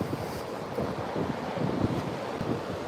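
Coastal surf and moving water at an exposed shore, a continuous broadband wash with rolling swells and wind buffeting the microphone, steady and fairly loud with no voices.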